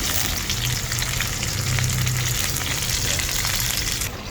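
Lemongrass and onion sauté in hot oil in a pan, a loud, steady close-up sizzle that crackles continuously for several seconds with no one speaking.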